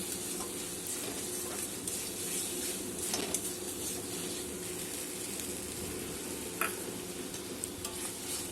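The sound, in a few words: stirring tomato, chili, cumin and coriander masala frying in pan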